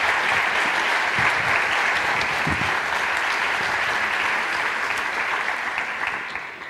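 An audience applauds after a speech at a social-impact conference, a thick, continuous wash of many hands clapping that holds evenly and tapers a little toward the close.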